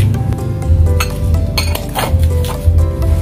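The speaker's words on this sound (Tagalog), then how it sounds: "Haluin hanggang matunaw." Sugar and powdered milk stirred in a pot until dissolved for a buko pie filling, with a steady scraping and clinking of a spoon against metal under a low background hum.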